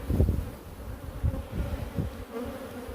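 A honeybee colony drones in a low, steady buzz from an opened hive loaded with bees being readied for winter, close by and continuous with no voices.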